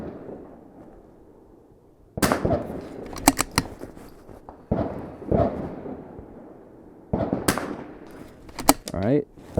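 A .22 rifle fires three shots at steel targets on an outdoor range. The sharp cracks come in quick, loud bursts with short ringing tails, heard close under occasional low mumbled talk between shots.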